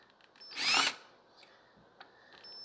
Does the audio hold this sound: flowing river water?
no